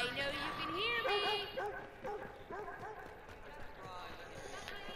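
In the video game Watch Dogs 2, a puppy gives short yips and barks amid game sounds and running footsteps, with voices talking throughout.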